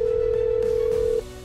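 A telephone in the Farming Simulator 19 game gives off a single steady electronic tone that holds for over a second, then cuts off, leaving quieter background noise.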